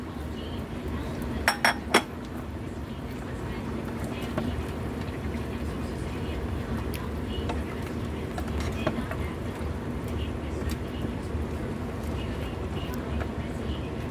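A pot lid goes back on a simmering pot of chicken tinola with sayote: two or three quick metallic clinks early on, then a steady low kitchen hum with faint clatter.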